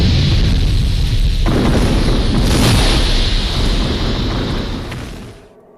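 A second story explosion sends an egg flying high into the sky: a loud, continuous booming roar that sustains for about five seconds, then fades away, with no voices present.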